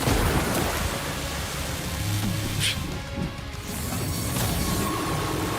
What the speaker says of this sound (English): I don't know if I'm hearing lightning thunder outside or in game.